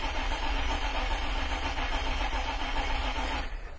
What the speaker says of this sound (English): Take a listen to the compression.